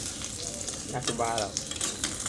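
Soft, steady sizzle of an egg frying in a pan, with light crackles popping throughout and a voice speaking briefly over it, all fairly quiet and close.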